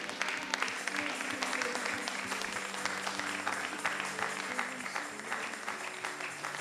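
A church congregation applauds together in sustained, dense clapping that carries on evenly throughout, with faint voices mixed in.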